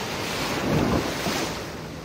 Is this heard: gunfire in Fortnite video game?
no